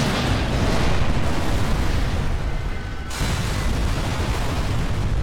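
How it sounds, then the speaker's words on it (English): A trap explodes in the video game Sniper Elite 3, a loud, dense roar of blast noise that fills the clip, dips briefly near the middle and then swells back to a sustained rumble. "That was a nice explosion."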